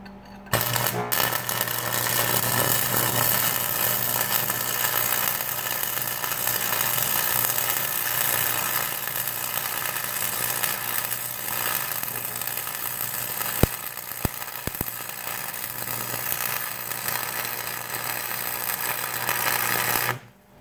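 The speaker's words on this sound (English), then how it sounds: "1 of 4 welds done" Metal welding makes a steady, dense crackling hiss that runs close and loud for about twenty seconds, with a brief pop partway through, before it stops.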